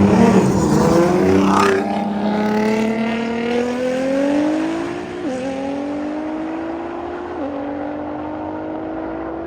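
A 2013 Nissan GT-R race car accelerates hard in a roll race, its engine note climbing steadily through gears with two clear shift breaks, loud and close, with a brief spoken word early on.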